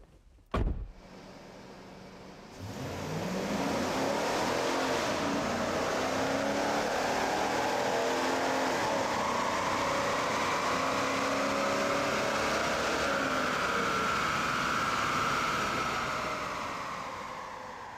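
A stock 1999 Chevrolet Silverado pickup runs on a chassis dyno for a baseline pull, its engine droning loud and steady as it climbs through the revs for about fifteen seconds after a short sharp knock.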